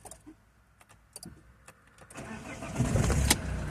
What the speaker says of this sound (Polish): Samochód odpala.